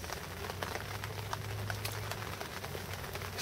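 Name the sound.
heavy rain falling outside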